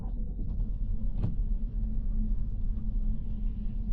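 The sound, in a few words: Kia Stonic 2026 car driving in snow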